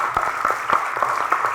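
An audience at an indoor forum breaks into brief applause, a short burst of scattered clapping close by.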